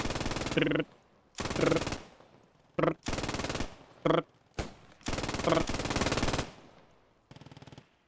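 Machine-gun fire in the World War II shooter Post Scriptum, in several loud, close automatic bursts of varying length separated by brief silences, with a few single shots and a quieter final burst.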